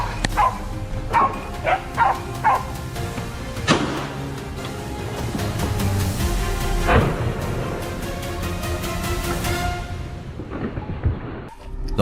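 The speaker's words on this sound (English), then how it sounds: "Leaves rustled and the dogs barked nearer." Hunting dogs bark repeatedly in a forest during a wild boar hunt, sharp overlapping yelps and bow-wows at mid distance, clustered early and scattered through the rest, over a steady background din.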